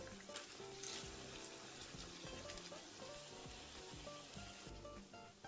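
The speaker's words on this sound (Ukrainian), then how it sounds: "смажимо смакоту на середньому вогні до золотавого кольору з двох сторін" Steady sizzling of pumpkin vegetable cutlets with sausage and cheese frying in a pan over medium heat, a continuous crackling hiss with no voices, close and even.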